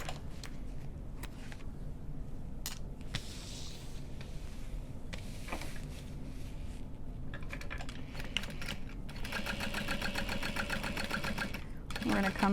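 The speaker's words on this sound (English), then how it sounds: "you could just sew over the bottom for extra reinforcement." A sewing machine stitches a handbag in rapid, steady runs, with brief pauses for pivoting, close and fairly loud throughout, with a faster burst near the end.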